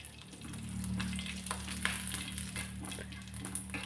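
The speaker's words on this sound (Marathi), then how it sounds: "जिरेसुद्धा चांगले फुलले की कढीपत्त्याची पानं घालायची" Curry leaves crackle and sizzle in hot oil with cumin seeds, a steady, dense spitting hiss with scattered pops, close and fairly quiet.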